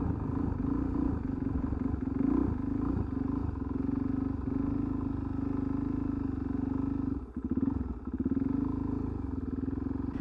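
Motorcycle idling and creeping at walking pace through a full-lock turn, steady low engine rumble with small throttle blips and a brief dip in level partway through, no talk.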